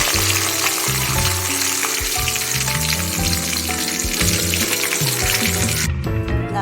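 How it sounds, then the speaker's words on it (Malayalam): Steady crackling sizzle of mustard seeds popping in hot oil in a pan, loud and continuous, with dense broadband spatter and some low rumbling under it. "ഞാനൊരു ചീനച്ചട്ടിയിൽ അല്പം കടുക് പൊട്ടിച്ചിട്ടുണ്ട്"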